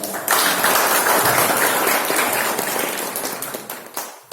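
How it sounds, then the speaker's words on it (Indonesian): An audience gives dense, sustained applause to welcome Prof. Ono at STMIK Amikom Surakarta, a campus in Indonesia. Many hands clap at once, loud and close, then taper off toward the end. "Tepuk tangan pada Pak."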